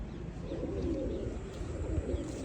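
Pigeons left with feed and water coo low and continuously beneath a steady, rumbling background noise.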